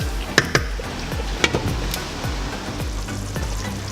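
Coconut jollof rice stew being stirred in a pot, with a few sharp scraping clicks of the spoon against the pot early on over a steady simmering hiss, continuing as softer stirring sounds.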